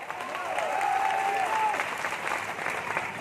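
Crowd applause at a political rally, steady and loud, sustained clapping from a large outdoor audience throughout.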